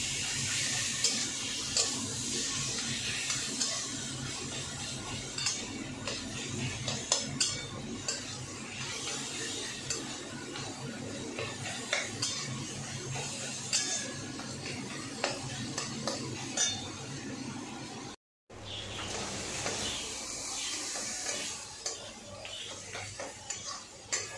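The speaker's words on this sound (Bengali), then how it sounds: "এবার মশলাটাকে ভালো করে কষিয়ে নেবো।" Spice paste with salt and turmeric sautéed for a pomfret oil-chilli curry, spoon scraping and clinking steadily against the pan, close and continuous, with a brief gap near the end.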